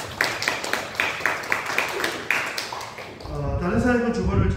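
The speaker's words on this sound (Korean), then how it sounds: "우리 박수로 감사하고" A congregation in a church service gives a brief burst of scattered clapping, a series of crisp claps over about three seconds, before it cuts to a louder, denser stretch of room sound and voices.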